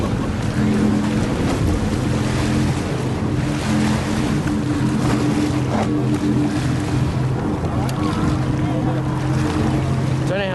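Racing powerboats on Lake Macquarie drone steadily beneath constant wind and water wash, heard from a distance, with a voice commenting over the noise.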